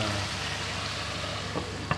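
Pork fries in a pan over low heat for sisig, with a dense, continuous sizzle and crackle, close up, with a couple of light clinks near the end.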